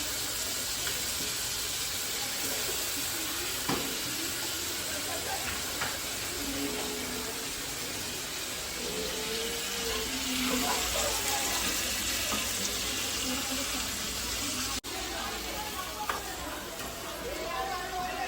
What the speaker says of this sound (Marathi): हे चिकन आता त्यामध्ये फ्राय करायला टाकलंय